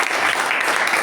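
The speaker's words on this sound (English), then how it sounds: "let's give him a special round of applause to" A brief burst of dense clapping from a crowd at a Toastmasters club meeting, steady and fairly loud throughout.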